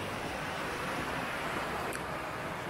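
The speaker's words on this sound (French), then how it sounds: "c'est pas vraiment une cascade, c'est un cours d'eau" A small stream in a century-old park rushes steadily and fairly loud, a continuous broadband wash of flowing water with no voices.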